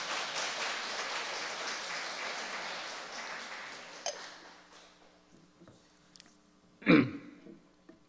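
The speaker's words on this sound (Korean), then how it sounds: "여러분들 박수 쳐주셨는데요" An audience at a Sunday afternoon church service gives a steady round of applause that gradually thins out and dies away, leaving a quiet room with a few scattered knocks and a sharp thud.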